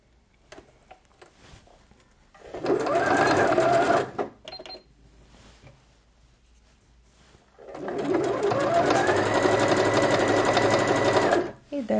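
A sewing machine stitches a quilted jacket-shirt sleeve in two long, steady runs with a whirring hum, separated by a quiet pause with small handling clicks.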